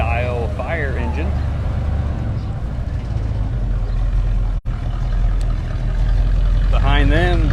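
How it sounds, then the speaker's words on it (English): An old Dodge-style fire engine from the MacArthur Fire Department rolls past in a small-town festival parade, its low engine rumble steady and close, while a commentator talks over it through a loudspeaker. "We have a very old fire engine making its way through."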